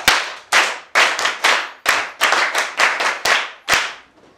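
A group of people clap their hands in sharp, irregular bursts, roughly a dozen loud, close claps with brief decaying tails, and no talking.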